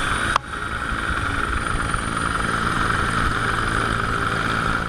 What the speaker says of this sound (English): A rescue chopper spotted them instantly, and a brave officer descended with the cable.